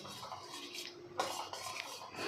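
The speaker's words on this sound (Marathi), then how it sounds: "आता हे सर्व आपल्याला मिक्स करून घ्यायचं आहे" Moong dal halwa ingredients are stirred together with milk and milk cream in a pan, with a spoon scraping and clinking against the metal in quick, close strokes.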